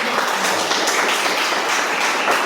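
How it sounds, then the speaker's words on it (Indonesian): Applause in a classroom lesson, a steady wash of many hands clapping at even loudness throughout, with no clear talking. "Tepuk tangan."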